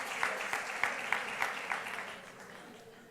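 A conference audience at an education congress breaks into brief applause, with a few rhythmic claps standing out before the clapping quickly fades away.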